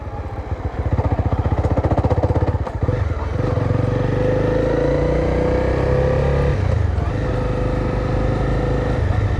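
A motorcycle engine drones close up under the rider, revving in rising pulls and dropping back between gear shifts, loud and continuous.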